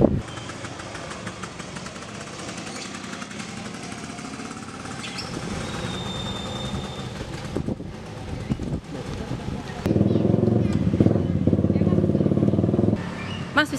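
A motorcycle engine runs steadily throughout a short Indonesian street scene, with a louder, rougher burst of revving near the end; people talk over it.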